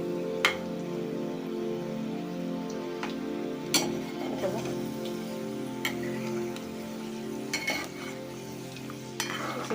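Sweet chillies frying in a pan and gently stirred, a continuous close sizzle with occasional soft clinks and scrapes of the spoon.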